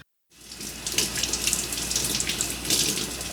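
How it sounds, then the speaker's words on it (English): Tap water runs steadily into a sink while a large batch of vegetables is washed for a hot pot dinner, a close, continuous splashing rush that starts after a brief silence and carries on alone. "We need to wash a lot of vegetables."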